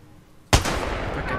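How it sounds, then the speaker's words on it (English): A single sharp gunshot in the video game Apex Legends, fired at a window, hits hard and is followed by a dense rattle of further game gunfire and noise, with no talk over it. "I'm gonna try to shoot in the window."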